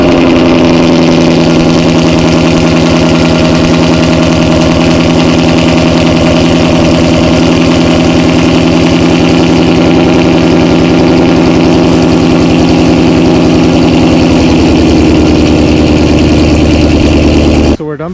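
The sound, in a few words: car engine semi-cold start with headers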